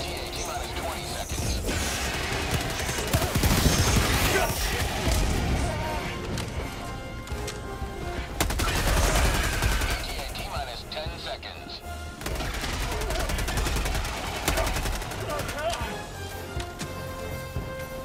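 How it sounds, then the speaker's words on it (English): A co-op shooter battle plays out with machine-gun fire, bursts and heavy impacts crackling dense and loud across the whole stretch, while players talk over the noise. "I have a machine gun"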